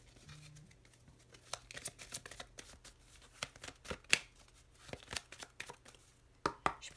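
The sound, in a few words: shuffling Lenormand cards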